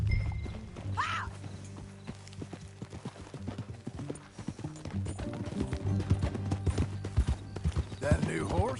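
Horse hooves clip-clop steadily in the Red Dead Redemption video game, close and rhythmic under game music, with a brief whinny near the start and characters talking.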